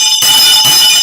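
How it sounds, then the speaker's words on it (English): A bell rings loudly and close during a live stream, sounding as a bright sustained metallic tone with two strikes about half a second apart, each refreshing the steady ringing. "Let me ring the bell for my brother."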